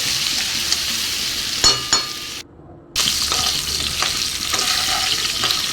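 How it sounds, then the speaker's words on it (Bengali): Vegetables frying in a pan for a Bengali home recipe, a dense continuous sizzle with a few clinks and scrapes of stirring and a brief drop-out in the middle. "ভাজতে ভাজতে সবজিগুলো মোটামুটি সিদ্ধ হয়ে যাবে তাই ভাজতে হবে ভালো করে"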